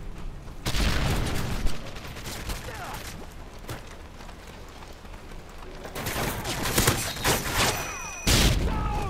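Video game gunfire rattles in steady bursts alongside heavy explosive booms, one of them a grenade blast, dense and loud throughout with a voice speaking over parts of it.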